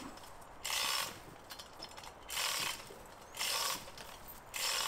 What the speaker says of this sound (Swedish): Och här har jag satt upp vinschen.